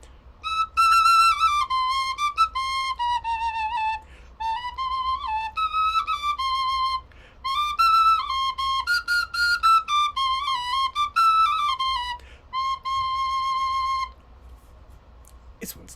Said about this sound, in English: penny whistle was one of the instruments that I knew how to play